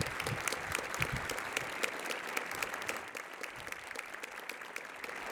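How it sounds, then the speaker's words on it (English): Audience applause fills a high school's annual Rock Day assembly, a dense sustained clapping from a large crowd that eases slightly in loudness partway through. "Please join me in a round of applause to acknowledge their hard work"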